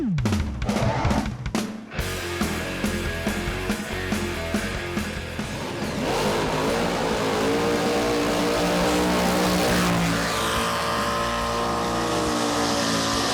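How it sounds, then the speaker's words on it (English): Blown Chevrolet Nova drag car doing a burnout on an eighth-mile drag strip: a loud, sustained supercharged engine roar with revving and a rising, rasping scream, preceded by a few sharp throttle blips. "It's a little 8th mile burnout."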